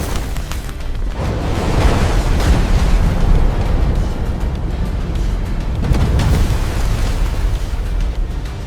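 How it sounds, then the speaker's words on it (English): A jet fuel tank vapor explosion set off by an electrical spark erupts as a deep, roaring boom, swelling and rumbling loudly for several seconds with a second surge of rolling blast noise later. "a spark can trigger a catastrophic vapor explosion"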